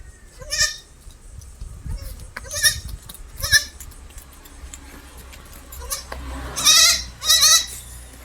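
Goats bleating at a livestock sale, a mother goat with her three kids, one male and two female: a string of about eight separate bleats, some higher and some louder, spaced across the clip at close range.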